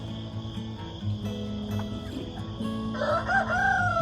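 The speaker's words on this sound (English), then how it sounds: "Here the old roosters are crowing this morning." Early morning on a farm: an old rooster crows near the end over a steady background hum, with crickets chirping and faint clucking; a single clear cock-a-doodle-doo rises toward the close.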